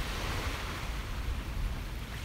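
Ocean waves wash steadily onto a beach, a continuous broadband roar with no voices.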